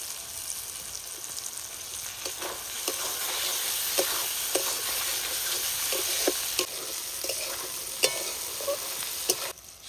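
Ginger garlic paste and chopped tomato sizzle and fry in a pan, with a steady crackle and occasional sharp stirring scrapes, close and without talk.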